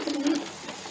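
Pigeons coo in a loft, a soft low burbling call that swells briefly near the start and then fades into quieter ambience, with no talking.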